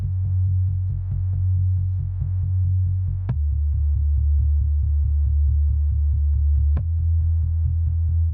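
A bass line from a self-made song plays alone in a steady pulsing rhythm of low repeated notes, shifting pitch twice with a sharp click at each change, loud and close, with no voices.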